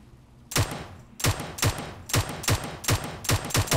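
Single gunshots ring out in PUBG Mobile, nine sharp, close, loud cracks at a fairly steady pace of roughly two per second, each with a short tail, and no talking over them.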